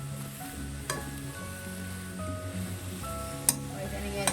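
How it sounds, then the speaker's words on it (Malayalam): Brinjal stirred in a hot pan gives a quiet sizzle and scraping strokes, with a couple of small clinks, over soft tonal background music. "വഴുതനങ്ങ ചേർത്ത് ഇളക്കി"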